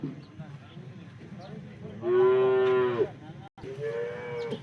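Cows at a cattle sale in Porbandar, where pregnant cows are up for sale, let out a loud, drawn-out moo and then a second, slightly softer one after a brief pause, close by, with voices murmuring faintly underneath.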